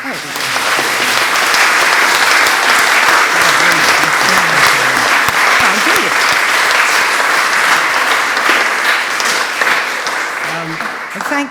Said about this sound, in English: Caroline Barron, another round of applause for